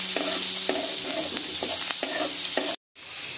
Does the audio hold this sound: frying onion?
yes